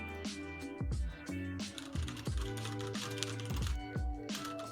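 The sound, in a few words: typing on computer keyboard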